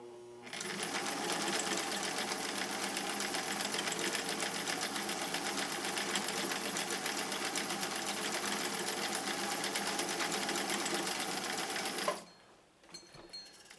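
A sewing machine runs steadily for about twelve seconds stitching a mountain stitch pattern, a fast even whirring rattle that stops abruptly, followed by faint handling noise.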